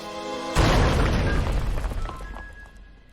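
An explosion goes off at a fire in the King's Quest video game. A sudden loud boom follows a soft tonal game sound, then a rumbling roar slowly fades over about two and a half seconds. No one speaks.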